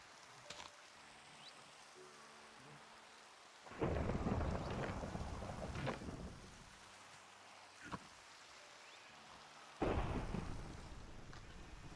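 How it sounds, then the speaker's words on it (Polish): Rain and thunder in the video game Minecraft: a steady rain hiss with two loud rolling thunder claps several seconds apart, no talking. "znowu leje"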